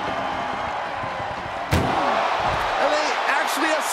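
An ambulance door slams shut in a wrestling video game, one sharp loud bang that cuts through a noisy arena crowd while a commentator talks over it.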